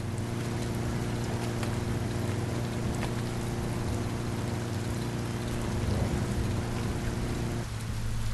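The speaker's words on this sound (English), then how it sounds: "Hope you enjoy the rain." Steady rain falls across a wide open area in the video game Biomutant, a dense even hiss with a constant low hum beneath it, holding at a similar level throughout with no voices.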